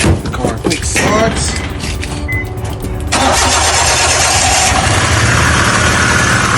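A Hyundai car with a misfire is started: a few cranking bursts, then the engine catches and settles into a steady, slightly rough idle close by, with brief talk early on.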